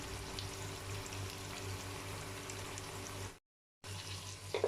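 Mutton sizzles and fries steadily in a pan while palak gosht is being made. The soft, continuous crackle breaks off briefly into silence, then resumes, with a faint clink near the end.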